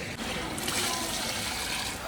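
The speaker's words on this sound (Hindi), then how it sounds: "अब बारी आ गया पानी डालने की। इसमें पानी डाल लेते हैं" Water poured into a large pot of chicken and spices being cooked for rice as langar food, a steady broadband pouring rush that holds for about two seconds with no break.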